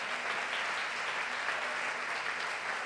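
A congregation's applause during a church sermon, a full, steady roar of many hands clapping at once that stays loud and unbroken throughout.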